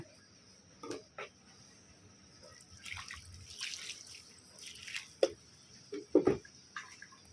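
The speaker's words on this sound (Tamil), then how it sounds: "தண்ணி தெளித்தாச்சு" Water sprinkled by hand over newly planted greens (keerai), faint scattered splashes and drips coming in irregular bursts, a few louder patters near the end.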